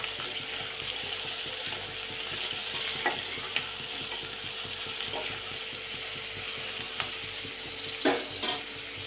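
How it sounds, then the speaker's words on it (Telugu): Salted bottle gourd pieces are stirred in a pan over a soft continuous sizzle, with scattered spatula clicks and scrapes against the metal at an even, unhurried pace. "కొంచెం సాల్ట్ను అలా చల్లేసుకొని మళ్ళీ ఒక్కసారి చిన్నగా ఇలా కలుపుకోవాలి"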